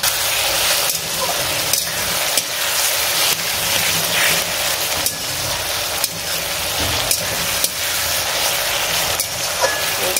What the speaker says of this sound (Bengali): পেঁয়াজ, টমেটো, আদা, রসুন, যেটা ওই হামানদিস্তা রেখে একটুখানি থেতো করে নিলাম, আর আদাটা এগুলো সব একসঙ্গে ভাজবো